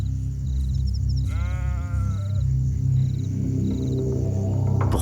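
A sheep on the Namibian coast gives one wavering, drawn-out bleat over a steady low rumble, with faint beeping tones repeating in the background.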